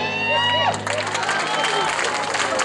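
An audience at a local talent show in San Casciano in Val di Pesa bursts into applause and cheering for a singer as the sung music with sustained tones cuts off, clapping then continuing under crowd noise.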